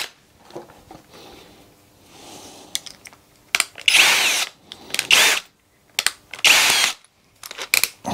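A small drill bores a hole, roughly 2.4 mm, for tapping a 3 mm screw thread. It whirs in several short, sharp bursts separated by quiet pauses, close up and with no talking.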